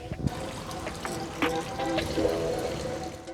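Water runs steadily from a street yard pump in a Ukrainian town, splashing and trickling into a container at close range with a few knocks and clinks over the flow.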